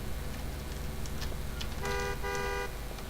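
Car horn in the GTA IV video game, two short honks late in the stretch over a steady hum of engine and traffic noise, fairly faint and with no talking.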